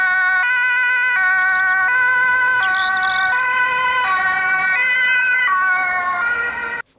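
A loud electronic two-tone siren from a toy ambulance, alternating high and low in a steady, repeating pattern, close by, cutting off abruptly at the end.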